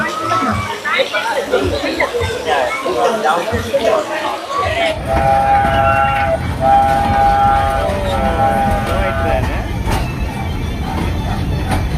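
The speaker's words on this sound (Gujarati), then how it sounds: "Atal સરોવરની train guys." A small amusement park train at Atal Sarovar, Rajkot, sounds its horn in several short, tonal bursts amid steady crowd chatter and a busy outdoor din.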